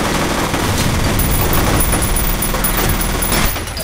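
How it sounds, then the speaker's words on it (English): Gunfire from a weapon in the shooter game F.E.A.R., dense and loud bursts of rapid shots that go on almost without pause, with a layer of game sound effects mixed in underneath. "I don't aim nearly as well with this gun"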